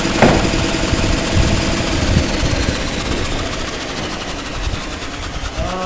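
A power sander smooths rough edges on a metal part in a workshop, giving a loud, continuous whirring buzz with gritty scraping texture that holds steady throughout, with no talking.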